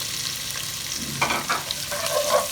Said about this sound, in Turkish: Soğanı atıp kavuruyorum.